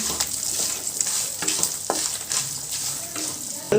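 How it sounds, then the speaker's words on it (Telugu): Green chillies sizzle and crackle steadily in a hot pan while a utensil stirs them, with scraping strokes every second or so. "పచ్చిమిరపకాయకి అలా పట్టాలి కదా, కొంచెం అలా కలుపుకుందాము"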